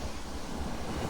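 Ocean surf at Maho Beach rolls in as a steady, loud roar of breaking waves, with blustery wind buffeting the microphone throughout.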